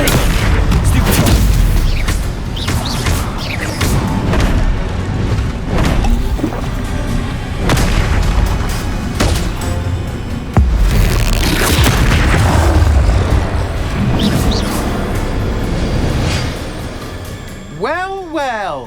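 Bombarda spells burst in Hogwarts Legacy combat, a string of loud booming blasts and crackling impacts over continuous battle noise and game music, ending with a whooshing sweep.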